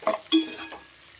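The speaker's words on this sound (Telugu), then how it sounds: "ఆలుగడ్డ వేసుకున్నాక కూడా మంచిగా కలపండి." Potato sizzles briefly in a pan under a couple of quick, close stirring scrapes, then the sound fades to a soft fry.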